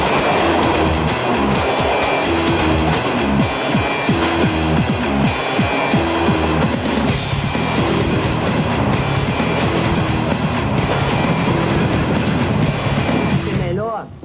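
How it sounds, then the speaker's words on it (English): A moving train with people riding on its outside, train surfing in Brazil: loud, continuous rolling rumble with rhythmic clatter from the wheels and rail, steady throughout, with voices mixed into the din. "These dudes in Brazil are hitching a ride on the side of a bus."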